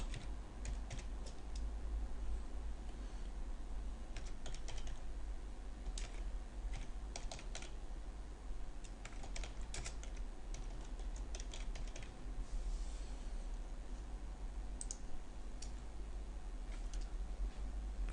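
Steady keyboard typing while code is entered for malware reverse-engineering work, with irregular bursts of clicky keystrokes and brief pauses over a constant low hum, close and moderately loud, no talking.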